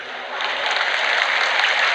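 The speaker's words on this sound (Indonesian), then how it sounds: "Tepuk tangan untuk NKRI" An indoor audience at a political gathering in Indonesia bursts into dense, even applause, a loud, sustained roll of many hands clapping together with no voices on top.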